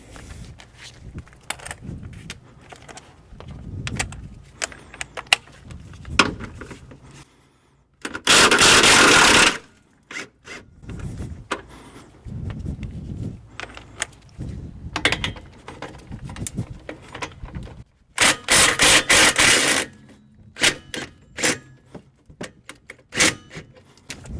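Rear shock absorber bolts on a Chevrolet Cobalt or Pontiac G5 being loosened with a socket tool: two long loud bursts of rapid mechanical ratcheting, separated by scattered clanks and clicks of tool handling, close up and without talk.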